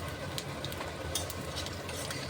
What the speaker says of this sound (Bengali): পাঁচফোড়নটা খুব সুন্দর করে ভেজে নিচ্ছি